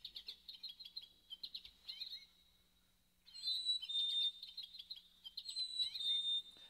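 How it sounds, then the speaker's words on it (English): A cardinal chirps in quick, high, repeated whistled notes, alternating short bursts with brief pauses, clear and fairly close against a quiet background. "This, of course, the cardinal."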